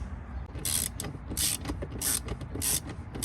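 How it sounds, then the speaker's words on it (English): Close, repeated ratcheting clicks from a driver backing out T20 Torx screws in a car door with a dead actuator, coming in four bright bursts over a low mechanical rumble, with no talking. "Step 2 was removing these T20s that are in there."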